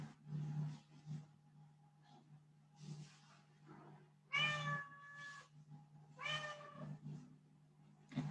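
A cat meows twice, clear and close, with long drawn-out cries separated by a pause, over faint background murmurs and a low hum.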